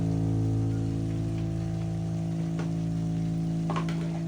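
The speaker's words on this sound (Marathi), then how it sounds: "हे पण 1-2 मिनिटं चांगलं परतवून घ्यायचं तेलावर" Masala spice paste frying in oil in a pan while cooking a surmai fish masala, a steady close crackling sizzle that carries on evenly with no talk.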